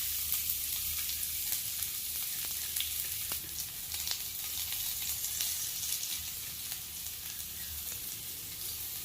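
Finely chopped onions sizzling in hot oil in a kadai, a steady bright crackling hiss with scattered sharp pops and spits throughout, continuous and fairly close, with no talking.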